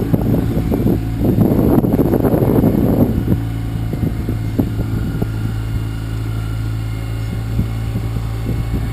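A sailboat's auxiliary motor drones steadily at a low pitch while the boat sails in about 15 knots of breeze, with wind buffeting the microphone heavily for the first few seconds and then easing.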